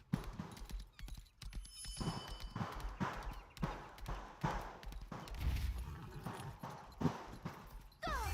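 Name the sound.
horse hooves from a video game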